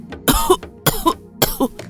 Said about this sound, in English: Nneka coughed dryly.